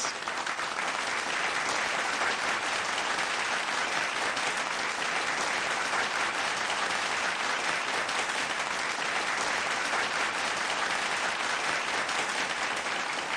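Sustained loud applause from a large audience, a dense, even wash of clapping that continues steadily throughout.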